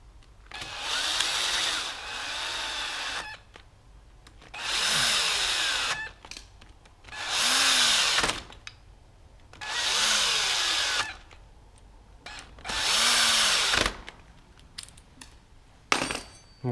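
A cordless screwdriver pre-tightens the clutch screws on a Derbi moped. Five loud whirring bursts of about two seconds each, separated by short pauses, with the motor pitch rising and falling close by.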